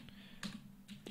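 Keys clacking on a computer keyboard in a short burst of typing, a few quick taps, close and moderately quiet, with no voices.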